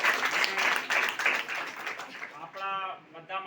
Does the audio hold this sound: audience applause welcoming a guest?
yes